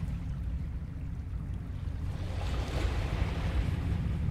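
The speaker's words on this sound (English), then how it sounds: "Got waves right here." Ocean waves wash steadily in a Lovecraftian video game, a broad surf rush with wind that swells slightly louder partway through, heard alone without speech.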